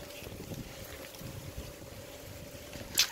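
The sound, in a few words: wind blowing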